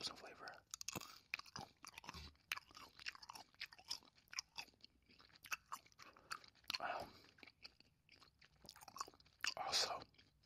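Gum chewed close to the mic, moist smacking and clicking bites in an irregular rhythm with soft pauses, with faint whispery breaths between chews.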